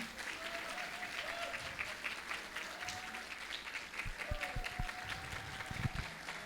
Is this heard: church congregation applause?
yes